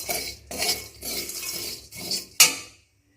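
Biryani spices are dry-fried in a pan, heard as several rhythmic bursts of a spoon scraping and rattling against the metal, ending in one sharp clink and then silence.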